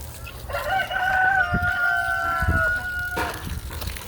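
Chickens in a muddy coop bedded with wood shavings and manure give a loud, drawn-out crowing call followed by a few short clucks nearby, with faint footsteps and rustling around them.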